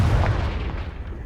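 A Confringo fire spell blasts in the Hogwarts Legacy video game, a single heavy boom that hits hard at once and rumbles away over about a second.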